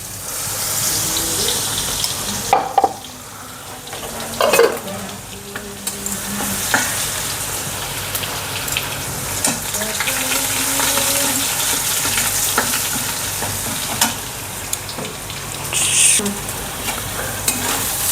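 Garlic and cumin paste frying in a hot pan, a loud steady sizzle with scraping stir strokes and a few sharp clinks, alone without talk.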